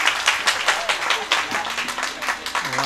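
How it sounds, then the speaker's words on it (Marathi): Audience applause at a Marathi devotional kirtan-style humorous talk: a sustained patter of many hands clapping through the whole stretch, fairly close, with a voice speaking over it. "टाळ्या वाजवांच्याकरता टाळ्या सर्वांनी."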